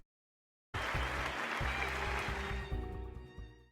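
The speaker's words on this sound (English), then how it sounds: "Then overwhelming thunderous applause, I'm assuming is the word, erupts." Loud, thunderous theatre applause erupts suddenly after silence in the video game Love and DeepSpace, a dense wash of clapping that holds steady before easing slightly as music tones emerge underneath.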